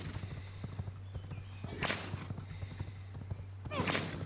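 A horse in the video game V Rising neighs and whinnies twice amid steady clip-clop hoof sounds and a low constant hum, the whinnies standing out loud and near.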